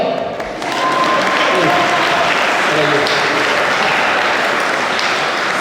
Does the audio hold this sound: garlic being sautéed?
no